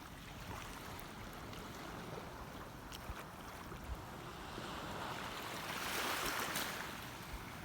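Sea waves washing onto a beach of thin, eroding sand during a typhoon, a steady broadband surf roar with wind, building louder near the end.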